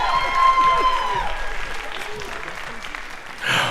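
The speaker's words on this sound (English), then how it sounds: "Give them another round of applause for that." Audience applause after a high school JV jazz band performance, steady clapping and crowd noise with voices chattering and calling out over it, then a brief swell near the end.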